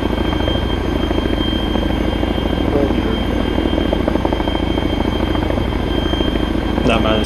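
A Chinook helicopter in ARMA 3 drones with a loud, steady rotor and engine roar throughout, close and constant, with radio-style voices speaking over it.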